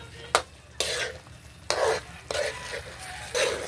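Chicken liver adobo thickened with cornstarch is stirred in a pot, with several bursts of scraping and sloshing at an uneven rhythm over a low background sizzle, heard up close.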